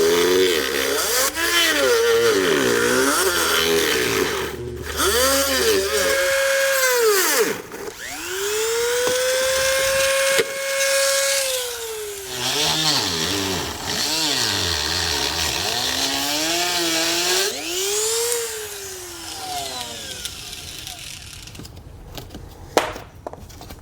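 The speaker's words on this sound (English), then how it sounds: "Now what we can do is trim out our plastic grill guard here according to the diagram in our instructions" Power tool trimming a plastic grill guard on a 2018 Ford Edge, a loud continuous whining drone that rises and falls in pitch as it bites and eases through the plastic, close up and sustained throughout.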